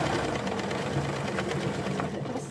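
A sewing machine stitching a cotton kitchen towel with a fabric border, a steady continuous whirring hum heard close and alone.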